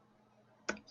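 A single sharp mouse click on a Sign In button in a remote applications lab, heard after a near-silent stretch, followed by a second softer click.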